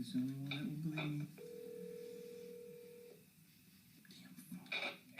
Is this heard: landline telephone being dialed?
yes